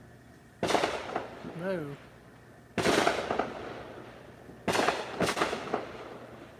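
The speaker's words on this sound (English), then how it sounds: "Say somebody's letting off fireworks in the neighborhood." Fireworks going off around a residential neighborhood outdoors, three crackling bursts of rapid pops spaced a couple of seconds apart at moderate distance, with a brief exclamation from a person between them.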